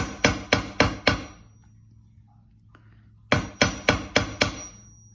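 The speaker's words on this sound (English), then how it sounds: "I will use my hammer and hammer it" Two bursts of sharp metallic hammer strikes on jewelry wire, four or five quick taps each, separated by a quiet pause, close and loud.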